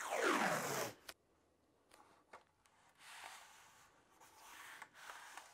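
Tape pulled off a roll to hold down a plastic sheet on a table: a loud, quick ripping screech at the start, followed by quieter taps, rubs and faint rustling as it is pressed down.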